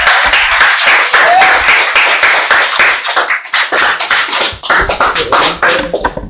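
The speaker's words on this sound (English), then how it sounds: "So give y'all a round of applause to y'all." Hands clapping at a release party for a Black Lives Matter music video: dense, loud applause from a crowd for about six seconds, with some shouting voices mixed in and a dip in the middle.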